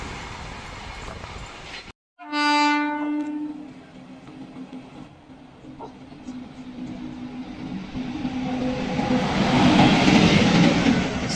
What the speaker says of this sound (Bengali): শালিমার চেরাপল্লী খিরাই স্টেশন ক্রস করছে